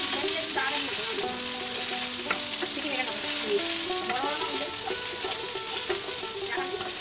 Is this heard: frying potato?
yes